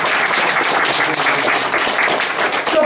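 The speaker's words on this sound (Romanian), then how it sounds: "Aplauze pentru Laurențiu" Loud, steady applause from an audience at a book launch fills the whole stretch, dense broadband clapping with no break.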